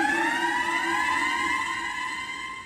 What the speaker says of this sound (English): Okay, siren